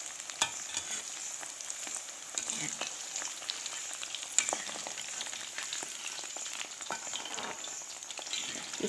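Atta kasta frying in a pan over a low flame in a Diphu, Karbi Anglong kitchen, giving a steady close sizzle with scattered crackles and a few sharp pops, no talking.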